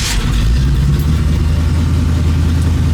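A 1973 Camaro engine idles at about 1,000 RPM, loud and close, with a steady low rumble and even throb that holds constant throughout.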